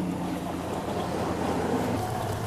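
A fishing boat's engine runs steadily while trolling an umbrella rig on open water, a constant near rumble mixed with wind and water wash and no clear speech.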